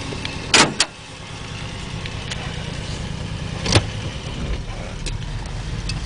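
An older Scout vehicle drives along a rough road, its engine a low steady rumble from inside the cab, broken by a few sharp rattles and jolts from the bumpy surface.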